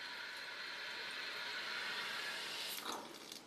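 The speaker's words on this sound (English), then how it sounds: "this will shut the valve off, and it sounds like this" Water rushing into a rooftop household water tank gives a steady, loud hiss, then a brief clunk as the float valve shuts and the flow sound drops away.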